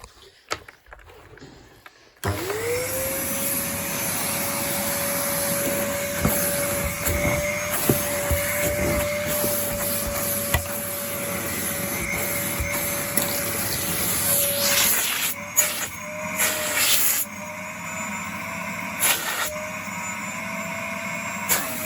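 After a brief quiet start, a Numatic Henry HVR200 vacuum cleaner motor roars to life with a steady high whine, then cuts off and spins down with clattering handling noises.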